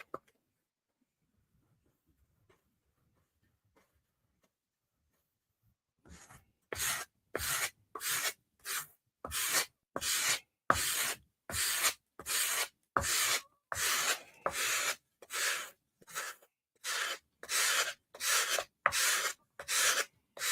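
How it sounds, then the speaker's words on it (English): Quiet at first, then steady rhythmic rasping strokes of sandpaper on wood, back and forth about twice per second, close and loud with no talking. "watch how I hold the sanding block, the directions that I sand"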